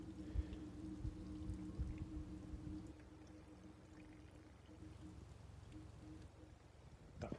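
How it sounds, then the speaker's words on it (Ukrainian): Warm water pouring from a tap on a frosty morning, a steady splashing rush that stays loud and constant, with a low hum underneath that drops slightly about halfway through. "пішла тепла. Закриваємо краника."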